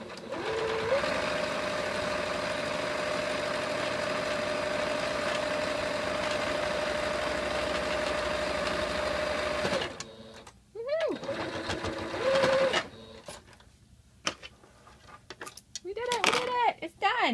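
Sewing machine stitching new elastic into an AppleCheeks swim diaper, a steady continuous whir for about ten seconds, then short bursts of stitching broken by pauses, with someone talking between them.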